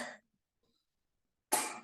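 Two separate coughs break the quiet of a lecture on psychiatric nursing, one short and one sharper, with near silence between them.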